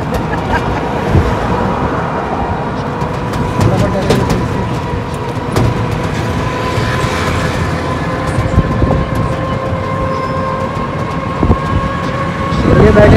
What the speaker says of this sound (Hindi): ये हमारा रेलवे स्टेशन आप देख सकते हो, जलंधर का रेलवे स्टेशन है ये।